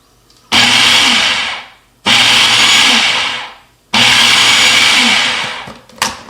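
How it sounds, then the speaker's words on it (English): A blender pulses a mashed taco filling in three loud bursts of about a second and a half each, separated by short pauses, with a brief clatter at the end. "we're just going to pulse this a few times to get the texture just right"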